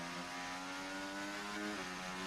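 A racing car engine roars in a Chinese Grand Prix video game, a loud sustained high-revving drone with steady harmonic tones and a brief pitch shift near the end, no voices over it.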